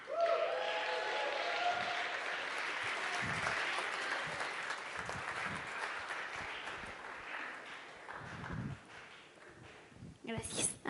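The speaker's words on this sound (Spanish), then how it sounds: "aplauso a Sofi." Applause for a preacher in church, a sustained crowd clapping heard fairly faintly, continuing for most of the stretch with a few footsteps and rustles as it tapers off.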